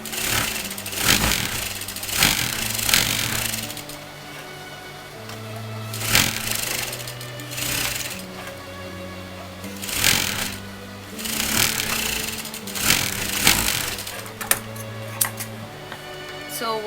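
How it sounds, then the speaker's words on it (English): A sewing machine runs a basting strip through lining and main fabric for an Anarkali dress, its rapid needle clatter coming in several close, loud bursts separated by brief pauses. "I'm putting a basting strip to secure the lining and the main fabric"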